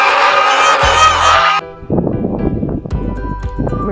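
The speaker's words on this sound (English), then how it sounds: "The path is blocked by a flock of geese." Loud, close goose honks ring out in bursts, several birds calling at once, then trail into scattered calls and rustling.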